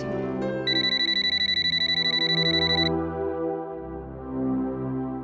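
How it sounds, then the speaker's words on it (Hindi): A landline telephone rings indoors in a household, a bright electronic trill pulsing rapidly for about two seconds over low background music, then stopping. "लैंडलाइन पे फोन करती हूँ।"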